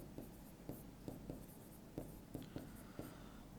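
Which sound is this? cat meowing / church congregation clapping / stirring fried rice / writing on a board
writing on a board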